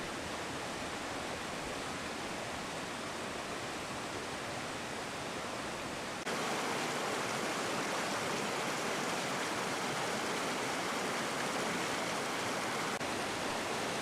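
Stairstep Falls on the Horsepasture River, a series of stepped waterfalls, gives a loud, continuous rushing roar that grows slightly fuller partway through, with no voices.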